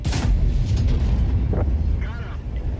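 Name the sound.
tank cannon shot from a video game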